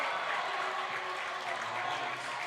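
Basketball crowd at a Chester County girls and boys high school game applauding steadily, a dense, sustained clapping wash filling the gym without break.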